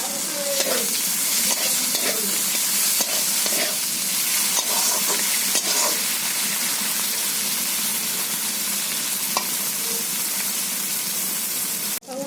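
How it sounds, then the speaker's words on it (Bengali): Fried prawns and gime greens sizzle loudly in a pan, a continuous close hiss of frying broken by frequent scrapes and clinks of stirring. "বন্ধুরা এখানে আমি ভেজে রাখা চিংড়ি মাছটা দিয়ে দিলাম।"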